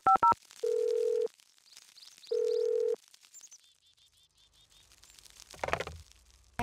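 In The Sims, a phone is dialed with a quick pair of keypad beeps, followed by two long steady dial-tone blasts with a pause between them, then soft chirping birds and a brief rustle near the end.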